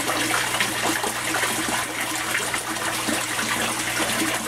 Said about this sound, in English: Bell siphon just activated,